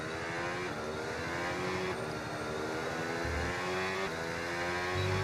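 Formula 1 car from F1 26 preseason testing droning along with a buzzing high-revving engine, the pitch stepping through gear changes every second or so, steady and close with no talk.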